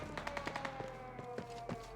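Rapid bursts of gunfire in a GTA roleplay video game, a string of sharp shots at a steady clip over a continuous low background hum, moderately loud and close.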